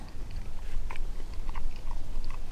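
Someone bites and chews crunchy double bacon pizza cooked over a campfire, close up, with a dense run of crisp crunches and wet chewing throughout.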